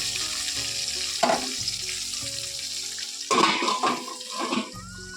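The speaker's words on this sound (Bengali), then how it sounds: "এবার আলুটা এখানে ভাজা হোক" Salted potatoes fry in oil in a home kitchen, a continuous sizzle broken by louder bursts of crackling and stirring, close up, with no speech.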